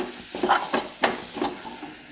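Masala sizzling and frying in hot oil in a pan for a banana-leaf-roasted mackerel dish, with a steady crackle punctuated by several stirring scrapes and louder bursts about every half second, close and alone.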